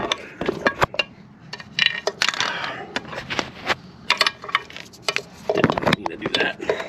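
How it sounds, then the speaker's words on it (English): A ratchet wrench works on the EGR valve of a Fox Body car, sounding as irregular close clicks and metallic clanks scattered in short bursts with pauses between them. "I'm going to go with my ratchet wrench over here on it, and it takes a little just finagling"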